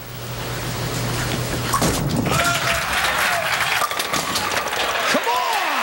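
A bowling crowd at a televised professional tour championship cheers and applauds loudly after a strike attempt, a sustained roar of clapping and shouts with voices calling out over it.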